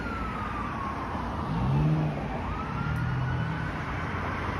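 An ambulance siren wails faintly in the distance, its pitch sweeping slowly over steady traffic rumble and engine noise on a street in North York, Toronto.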